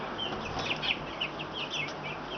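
Backyard chickens about 26 days old cluck and chirp softly in repeated short calls, faint over a steady background hiss with no talking.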